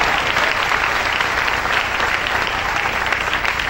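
A church congregation applauds during a Spanish-language worship service, a dense, steady wash of many hands clapping that holds at full volume throughout, with no talk over it.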